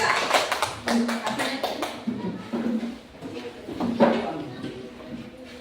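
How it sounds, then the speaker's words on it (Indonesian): Scattered hand claps from a classroom of students, a brief uneven burst of claps near the start then sporadic taps, with children's voices talking over the background. "Ya, bagus, tepuk tangan."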